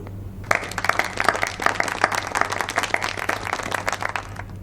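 Office colleagues applauding together, a dense burst of clapping that starts abruptly after a brief quiet moment and keeps up steadily at close range, with a low steady hum beneath.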